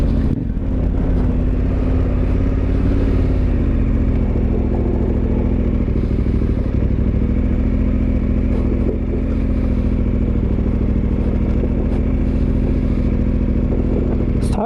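A dual sport motorcycle fitted with Mitas E07+ adventure tires accelerates in second gear from a slow roll, its engine drone steady and close for the whole stretch, with a slight dip in pitch early on.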